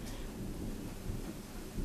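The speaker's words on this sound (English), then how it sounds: "that is thunder in the background" Low, rolling thunder from a Georgia storm rumbles steadily through the background for about two seconds, a broad continuous roar with no voices over it.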